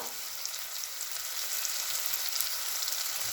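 Chopped tomato and turmeric powder sizzle in a pan for moong dal khichdi, a quiet, steady hiss of frying that runs evenly throughout without any talking.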